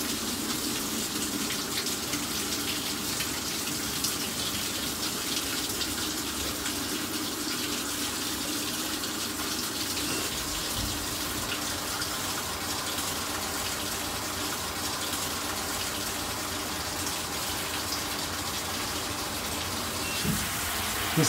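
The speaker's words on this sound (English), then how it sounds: "So testing hot and cold water intakes." Hot and cold water rushes steadily into an LG WT7300CW top-load washing machine through its intakes during a diagnostic test, a constant gushing hiss at moderate volume with no breaks.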